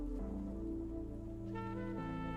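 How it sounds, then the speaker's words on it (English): Steady rain falls outdoors as a constant even hiss with no breaks, under a low sustained hum and tones. "Fucking raining over here today."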